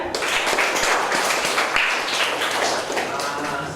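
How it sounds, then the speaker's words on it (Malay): A class of pupils claps for a classmate after a presentation at school, a continuous dense patter of many hands, close and loud, with a few duller thumps and some murmured talk. "Okey, bagi tepukan."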